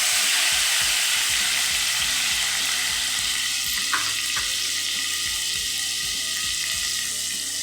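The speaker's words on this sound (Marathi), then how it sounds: "आणि वाटण तेलामध्ये आपण चांगलं मस्त असं भाजून घेऊया." A ground spice paste for a tangy-spicy amti is fried in hot oil with cumin, mustard seeds and a pinch of asafoetida, a continuous close sizzle with light stirring and scraping sounds and no voices.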